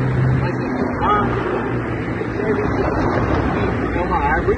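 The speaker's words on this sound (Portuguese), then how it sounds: "estamos na Praça de Barretos, muito barulho, carros passando por aí" Steady traffic noise of cars passing through a busy town square in Barretos, Brazil, a continuous broad rumble and hiss under someone speaking nearby.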